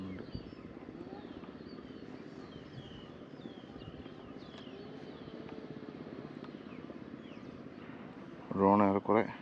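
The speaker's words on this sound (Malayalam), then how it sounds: "ഓക്കെ, നമുക്കിപ്പോൾ ഡ്രോൺ കാണാം." A camera drone flies outdoors in wind, a faint steady propeller whine and hum running throughout, with a short burst of louder noise near the end.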